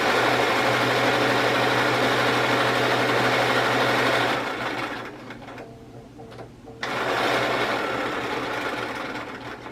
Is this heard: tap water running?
no